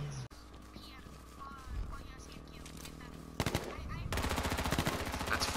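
Rapid gunfire in the video game H1Z1, bursts of automatic shots that grow louder and denser near the end, heard under a quiet game soundscape.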